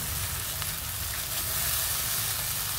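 Katla fish bhuna fries in oil in a pan over low heat, giving a steady, dense sizzle that continues without pause and with no talking.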